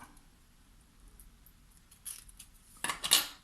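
Scissors make a straight cut through paper and masking tape during an album-making craft, a faint snipping that builds to a louder, crisp slice near the end over quiet room tone.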